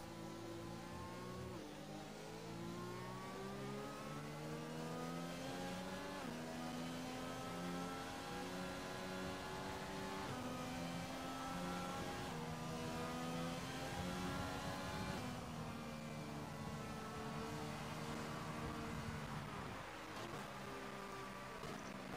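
Race car engines in an Xbox racing game at the Japanese GP during a safety car period, a steady layered drone of several engines rising and falling in pitch together, continuous and fairly quiet, with no talk.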